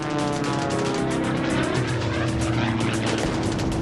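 F4U Corsair and Mitsubishi Zero fighter planes drone with a loud, steady roar of piston propeller engines that holds continuously throughout, close and without speech.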